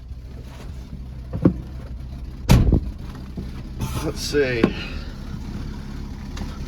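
A 1986 Ford F150 pickup engine idles with a low, steady rumble throughout. Someone talks over it, and a few sharp knocks and clunks break in partway through.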